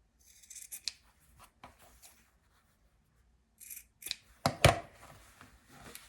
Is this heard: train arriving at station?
no